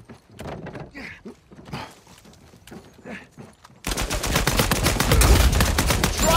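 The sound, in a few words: gunshots in a video game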